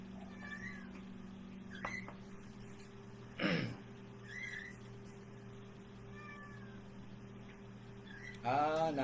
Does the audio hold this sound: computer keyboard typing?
no